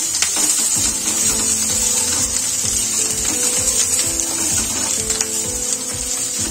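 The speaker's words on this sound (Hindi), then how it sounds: "अब इसे भी हम थोड़ा भून लेते हैं" Ginger, garlic and green chilli fry in a pan, giving a steady broadband sizzle with faint clicks and scrapes running throughout, close and continuous with no talking.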